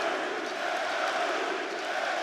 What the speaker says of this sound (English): Crowd are definitely behind him